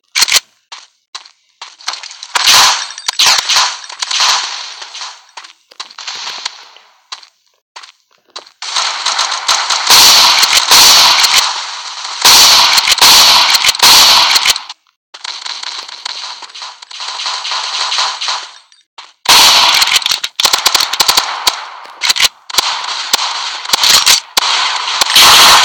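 Shotgun blasts from a video game fire in loud, close bursts of rapid, sharp reports, separated by short silent gaps.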